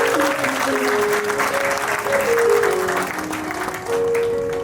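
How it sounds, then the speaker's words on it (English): Sustained applause from an audience at a school annual prize distribution, a dense wash of clapping under steady tonal music or hum, loud and continuous. "can I have a big round of applause"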